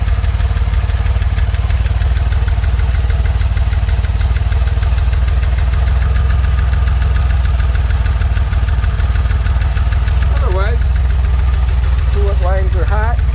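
A 1981 DeLorean DMC-12 engine idles steadily at operating temperature, a loud, continuous low rumble close by that holds even throughout, with a few brief chirps near the end.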